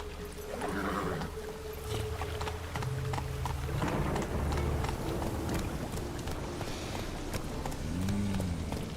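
Hooves of the horse Roach galloping in a video game, a steady rhythmic clip-clop close and clear over ambient game sound.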